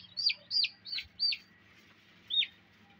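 Ducklings newly hatched in an incubator give a quick run of five high, shrill peeps, four bunched close together and one more after a pause, heard close up over a low steady hum.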